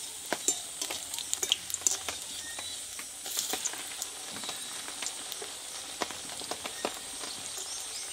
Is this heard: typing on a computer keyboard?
no